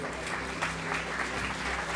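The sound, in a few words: church congregation applauding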